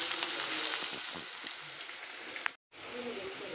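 Onions frying in a pan with chana dal, urad dal and curry leaves for a roselle (gongura) brinjal chutney, a close, steady sizzle with a few soft stirring sounds and a short gap.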